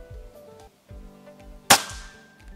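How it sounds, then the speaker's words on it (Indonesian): A single sharp shot from an FX Royale PCP air rifle cracks close and loud, then decays quickly against a quiet background with faint low thumps. "Kita lanjut ke tembakan yang ketiga."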